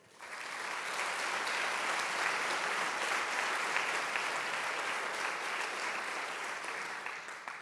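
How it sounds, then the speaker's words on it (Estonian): Sustained applause from an audience at a business award speech fills the hall, steady and dense throughout after a quick rise, with no voices over it. "Aplaus!"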